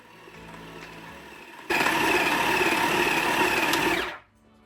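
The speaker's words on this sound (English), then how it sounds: "As the dough forms, the machine does vibrate quite a bit." Cuisinart 7-Cup Continuous Feed food processor kneading dough: a quiet motor hum jumps to a loud, rattling, vibrating whir that runs for a couple of seconds, then cuts off abruptly.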